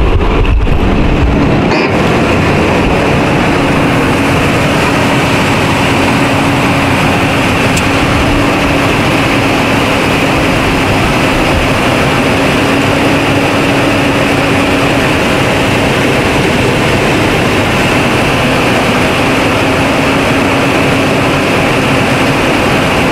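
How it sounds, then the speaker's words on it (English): A camper's six-cylinder engine idles smoothly and loudly up close, a steady even drone with a constant low hum holding unchanged throughout, no voices. "Nice sounding engine."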